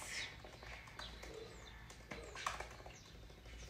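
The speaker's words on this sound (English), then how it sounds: "You might have the birds in my background here for you." Birds sing and pigeons or doves coo outdoors behind a quiet indoor setting, soft chirps and calls scattered through the moment with occasional wing flutters, all faint and distant.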